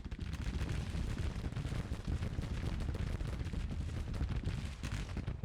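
Continuous volleys of massed musket fire from infantry troops and skirmishers in a Civil War battle game, dense overlapping cracks and booms rolling without pause, loud and close.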